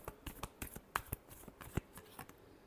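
Tarot cards being shuffled by hand, a quiet series of crisp riffling snaps and flicks in an uneven rhythm, close and alone.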